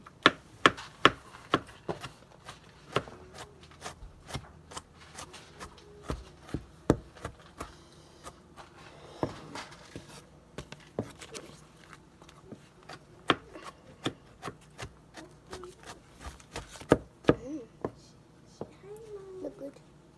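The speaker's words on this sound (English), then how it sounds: "that's how I chopped up my garlic and everything else" Sharp knife chops on a cutting board through garlic and green onion, coming in irregular bursts of quick taps with pauses, close up, with faint talk in between.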